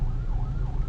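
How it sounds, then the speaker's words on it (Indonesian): Siren from a police or ambulance convoy passing through a congested night-time road between Ranuyoso and Klakah toward Lumajang, a steady wailing tone over low rumbling traffic, moderately near. "Nah, ini terdengar iring-iringan kepolisian atau ambulan ini"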